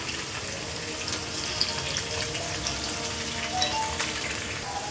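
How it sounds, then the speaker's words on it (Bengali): Potatoes fry in oil for khichuri, giving a steady, even, moderately quiet sizzle with faint crackles throughout and no voices. "এবার আলুগুলো এক এক করে একটু লাল করে ভেজে নেবো"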